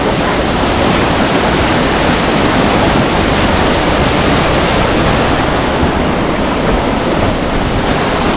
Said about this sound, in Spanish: Esto lleva mucho más agua que la última vez que yo estuve aquí.